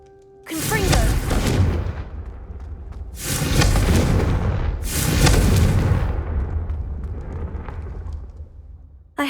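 The Confringo spell in Hogwarts Legacy erupts in three loud, heavy fiery blasts, each a deep rumbling boom that swells and lingers before fading, spaced a couple of seconds apart.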